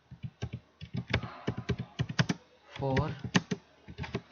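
A steady run of close, crisp keystrokes comes from a computer keyboard as text is entered in MS Word, with someone speaking Hindi briefly over the clicking.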